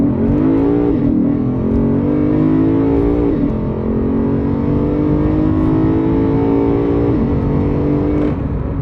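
A 2021 Lexus RC F Track Edition engine revs hard on a downshift, heard from inside the cabin as a loud, continuous growl with rising pitch sweeps and brief dips between gear changes.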